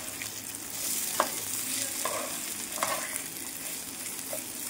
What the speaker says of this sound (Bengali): এবার দিয়ে দেব চালটা, এটা দিয়ে ভেজে নিতে হবে।